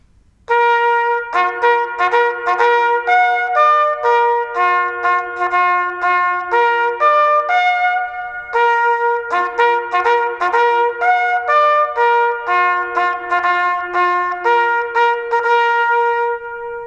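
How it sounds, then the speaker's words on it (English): A solo bugle plays the extinguish lights call alone, bright and clear, with quick repeated tongued notes and a short pause midway before the phrase resumes. "So the call for extinguished lights was a call that Napoleon liked."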